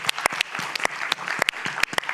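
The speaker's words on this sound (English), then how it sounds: "I would like a little applause for that." Audience at a climate adaptation forum gives a round of applause, a modest group clapping close by with distinct, uneven individual claps popping out rather than a dense wash.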